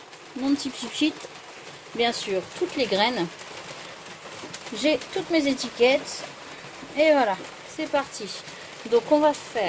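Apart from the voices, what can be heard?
rain falling on a pergola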